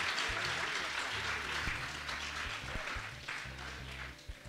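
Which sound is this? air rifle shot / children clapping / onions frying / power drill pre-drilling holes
children clapping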